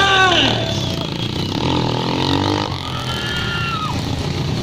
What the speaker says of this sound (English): Brab the motorcycle goes.